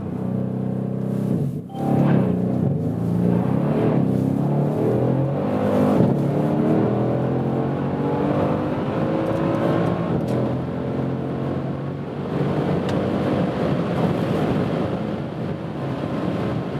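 Mercedes-AMG C63S Estate with 612 hp launching from a race start, its engine roaring loud and close as it revs up through rising gears, with a steady rush of wind across the whole run.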